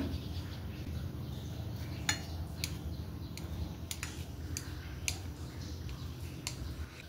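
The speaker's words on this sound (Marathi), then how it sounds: "आता आपण हा कापून घेऊया." Soft, spongy steamed dhokla being cut into pieces with a knife: a series of about ten light, crisp taps against the tray at an uneven pace over a faint background hum.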